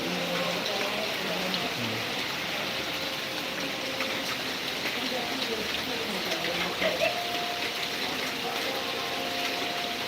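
Heavy rain pours down steadily in a broad, constant hiss during a downpour, with some water flowing nearby; faint voices murmur in the background throughout.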